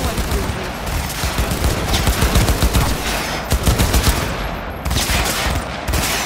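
Sustained automatic gunfire from a first-person shooter, Cyberpunk 2077, with dense rapid bursts of shots that stay loud and continuous and break off briefly a few times.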